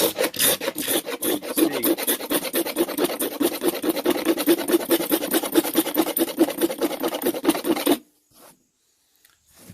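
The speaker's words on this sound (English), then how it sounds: "So I'm just working my way through it, and really I'm just scraping off until it's gone." Close, rhythmic scraping as a blade strips sun-oxidized, faded plastic from an old ATV part, a fast steady rasp that runs for about eight seconds and then stops.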